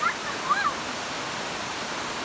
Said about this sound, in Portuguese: Que cachoeira linda.